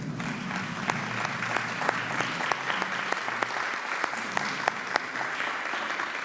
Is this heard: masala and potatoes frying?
no